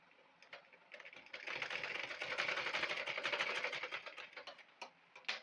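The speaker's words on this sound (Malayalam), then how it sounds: "അപ്പോൾ ഇവിടെ സ്വന്തമായിട്ട് നമ്മളൊന്ന് സ്റ്റിച്ച് ചെയ്ത് കൊടുക്കുക." A sewing machine runs steadily, stitching across the middle of a frock yoke, with a rapid, even mechanical whir and clatter that builds after a brief start and carries on for several seconds without any voices.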